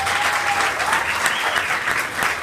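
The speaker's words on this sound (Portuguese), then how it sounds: "Mas agora eu vou pedir uma salva de palmas a sério para meu Gamboa." A stand-up comedy crowd breaks into steady, loud applause, dense clapping held throughout without a break.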